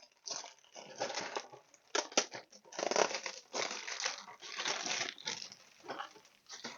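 Cellophane wrapping crinkles and crackles as a Matchbox toy box is opened, with close, busy bursts of crumpling that come in uneven waves and continue steadily throughout, with no talking.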